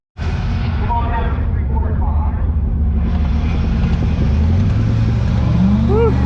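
A car runs down the drag strip on street tires at Rocky Mountain Raceweek. Its engine rumbles steadily under talking, then climbs sharply in pitch near the end as it accelerates.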